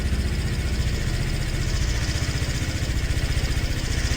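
A motorcycle engine idles in a video game with a steady, close, throbbing putter that holds even and unbroken throughout.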